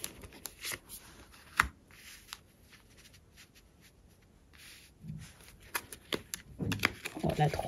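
Tarot cards drawn from a deck and laid on a table one by one, giving soft, scattered slides and taps under a quiet French-speaking voice.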